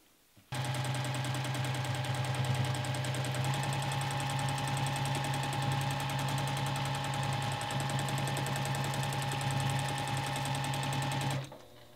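A sewing machine runs steadily for free motion quilting across a triangle of a quilt, its rapid needle stitching a loud, close, continuous hum that starts abruptly and stops just before the end.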